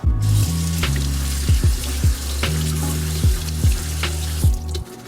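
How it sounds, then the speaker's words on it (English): Strawberries being rinsed in a kitchen under running water, a continuous near splash with a few louder gushes and knocks, heard without any talking. "Now I'm going to give these a good rinse and cut them into small pieces."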